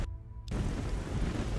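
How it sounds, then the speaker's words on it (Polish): Thunderstorm in the Risen 2: Dark Waters video game, with steady dense rain hiss and low rumbling rolling through after a brief quieter start, no voices. "Znowu burza. Dziękuję bardzo za tę burzę."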